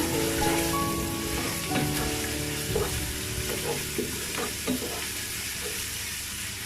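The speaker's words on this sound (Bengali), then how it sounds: "আদা রসুনগুলো একটু ভালো করে কষিয়ে নিচ্ছি" Ginger, garlic and spices frying in a pan for vegetable khichuri, a steady sizzle with occasional scraping knocks of a spoon stirring, close and moderately loud with no talk.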